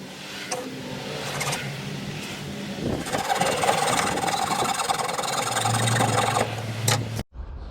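A small hand saw cuts holes in a boat deck, with close scraping, rasping strokes that grow denser and louder midway before stopping abruptly near the end.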